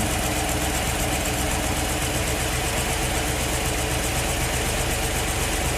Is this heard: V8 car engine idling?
yes